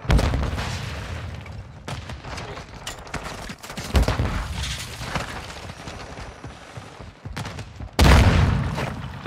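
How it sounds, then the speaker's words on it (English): Explosive combat sounds from Modern Warfare II, with booms and rapid gunfire-like bursts running dense and loud throughout and a heavy blast near the end. A stun grenade detonation sits somewhere in the mix, but the bursts do not single it out. "It's stun grenade out."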